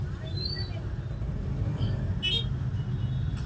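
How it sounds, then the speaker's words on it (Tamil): A Hero Splendor motorcycle rolls past with a steady low engine drone, moderately near and even in level, over faint background street noise. "என்ன வண்டி போகிறது? ஸ்ப்ளெண்டரா? ஸ்ப்ளெண்டர் தானே இது?"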